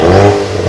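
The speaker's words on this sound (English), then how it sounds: "Come on, rev it up." A Ford Focus RS engine revving through an aftermarket MBRP exhaust, a brief loud close-up surge of engine and exhaust note.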